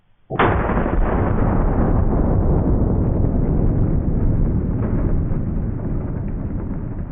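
A single thunderous report from a .470 Nitro Express elephant gun firing a 500-grain brass solid, a sudden loud blast followed by a long, heavy outdoor rumble that slowly fades over several seconds.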